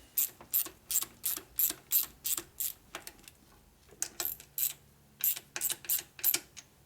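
A quarter-inch drive ratchet tightens a bolt at the lifter block of a 1972 Harley-Davidson Ironhead Sportster XLCH engine under rebuild, giving close, crisp rapid clicks in two runs of quick strokes with a brief pause between.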